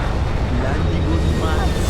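Spaceship retro thrusters firing as the ship comes in to land in Starfield, a steady low roaring rumble under a voice speaking.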